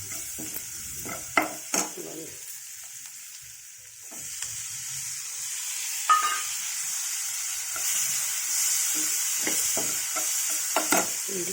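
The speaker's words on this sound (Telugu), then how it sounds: "ఇది వేగి శనగపిండి కూడా ఎర్రగా వేగింది కదండి" Tomato and gram flour frying in a pan, a soft continuous sizzle with scattered clicks and scrapes of a spoon stirring, close and fairly quiet.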